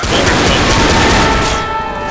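Rapid gunfire from a Left 4 Dead survivor shooting a smoker, a loud, dense burst of repeated shots running almost the whole moment before easing off at the end.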